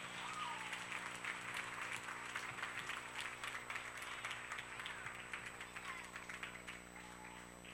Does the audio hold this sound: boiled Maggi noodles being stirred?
no